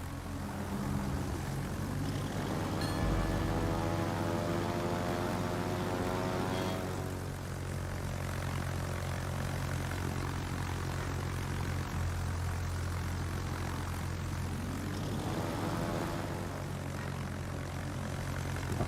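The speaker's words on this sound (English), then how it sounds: "Especially because these are rocket planes." Propeller-driven rocket planes in World of Warships drone steadily overhead, a loud continuous engine hum with rising and falling harmonic whine that swells early, then settles into a dense, constant roar.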